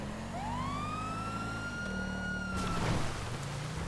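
A police car siren from Grand Theft Auto VI wails steadily with a rising, sweeping tone, loud and close, then cuts off near the end into a brief burst of noise.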